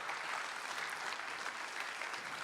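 An audience claps steadily for the musical ensemble at a Bharatanatyam Arangetram dance recital, a dense, even patter of many hands that is faint and distant and carries no voices over its short span.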